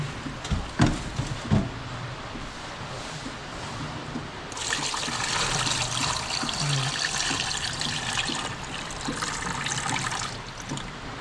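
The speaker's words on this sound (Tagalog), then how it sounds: "at ilalagay na natin yung tubig na may asin." Salt water is poured over eggs in a container to make salted eggs. A few knocks come first, then a steady, loud stream of splashing water starts midway and continues to the end.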